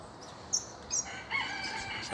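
Double-collared seedeaters singing in a tree, a few short high chirps followed by a brighter warbling phrase, moderately distant and faint against outdoor background noise.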